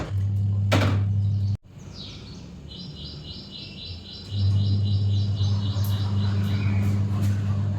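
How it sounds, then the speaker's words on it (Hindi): A bird chirps in a quick repeating series in the morning over a steady low machine hum, with a brief sharp click early on. "कितनी अच्छी चिड़ियों की आवाज़ आ रही थी"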